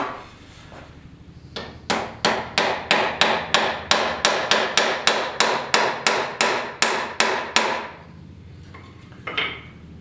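Rapid run of about seventeen sharp, even hammer strikes rings out close and loud on a Delta wood lathe tailstock under repair, a ringing metallic knock at steady rhythm, followed by quieter handling and a couple of lighter taps.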